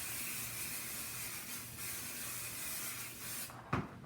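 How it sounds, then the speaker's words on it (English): A continuous hiss of temporary spray adhesive being sprayed onto fabric runs for several seconds at close range, then cuts off, followed by a brief knock. "I'm going to take my temporary spray adhesive and I'm going to spray the fabric"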